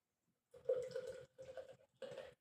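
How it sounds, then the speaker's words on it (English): Dortmunder Export beer poured into a tiger mug, three short gurgling bursts of liquid glugging from the can with brief pauses between them, close and fairly quiet. "Let's give it a crack and give it a pour into this tiger mug that I've got."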